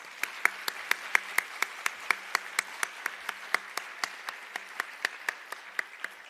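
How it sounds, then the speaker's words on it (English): An audience at the Golden Apple Awards ceremony claps for dancers in steady, evenly spaced rhythmic beats, about three per second, moderately loud and continuing throughout without talk. "Please join me in giving another round of applause to our fabulous dancers."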